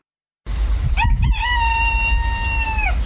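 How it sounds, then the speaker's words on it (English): A cockerel crows once, loud and close: a few short broken notes, then a long sustained tonal call that holds steady before cutting off, with no other sounds around it. "performing exclusively for the very first time on the podcast, is my cockerel doing the theme from Stingray"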